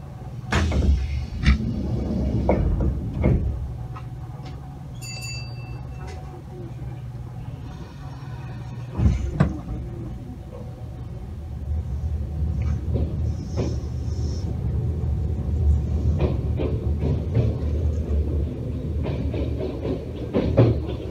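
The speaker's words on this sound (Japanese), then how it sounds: "発車します。 扉閉まります。ご注意ください。" A Kintetsu Blue Symphony limited express train rumbles and creaks as it pulls away, with a thud of closing doors and a short chime, steady low rolling noise building over time.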